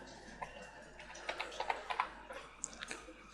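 Quick bursts of computer keyboard typing, a close, light patter of clicks that clusters in the middle and thins out toward the end, with no talking.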